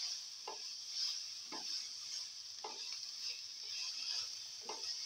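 Tomatoes fry in a pan for a stir-fry with bitter gourd and fenugreek leaves, giving a steady bright sizzle close by, broken by about five evenly spaced scrapes of stirring.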